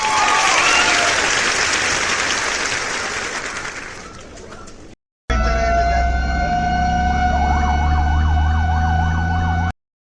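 A fire truck siren wails loudly and steadily in rising and falling sweeps, preceded by a broad noisy wash that fades out before a brief gap.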